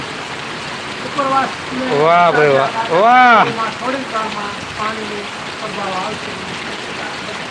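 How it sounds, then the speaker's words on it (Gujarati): Heavy rain falls steadily in Parvadi village, a broad hiss running the whole time beneath an excited man's exclamations. "અત્યારે હાલ ફરવડીમાં પણ ખૂબ સરસ મજાનો વરસાદ પડી રહ્યો છે"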